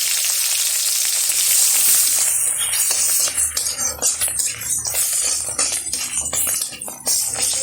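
Ground turmeric and mutton fat with a bay leaf sizzle and crackle in hot oil in a pan, a loud close hiss with irregular metal-utensil scrapes as it is stirred, no talk.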